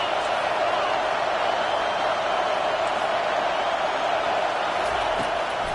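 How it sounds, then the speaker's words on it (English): A large stadium crowd roars steadily at a college football game, a dense, unbroken wash of cheering and noise that holds at a constant level throughout. "This crowd trying to make life miserable for this offense."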